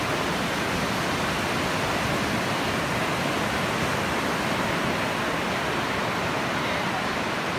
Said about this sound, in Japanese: 癒しの海の潮騒の音